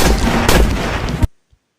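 A loud, close burst of gunshot sound effects with heavy booming impacts, cutting off abruptly into silence with one faint thud after.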